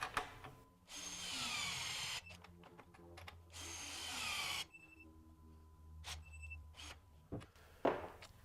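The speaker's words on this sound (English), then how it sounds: "So we're going to use our torque gun here." A cordless 12V torque gun tightens three fasteners to 150 foot-pounds, with two sustained whirring runs of about a second each, followed by softer clicks and short tool noises, close up in a quiet space.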